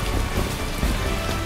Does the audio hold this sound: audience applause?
no